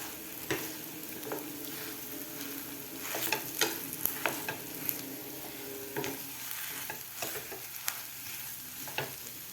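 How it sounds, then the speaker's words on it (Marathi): Mashed potatoes being stirred into frying masala in a pan, with a spoon scraping and mixing in irregular strokes over a steady low sizzle, close and fairly quiet, no talking. "आता व्यवस्थित आपल्याला हे खालच्या मसाल्यामध्ये बटाटे मिक्स करायचं आहे"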